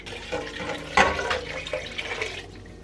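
Water pours and splashes into a pot in an uneven stream for redcurrant jam, with a sharper splash near the start, fairly close.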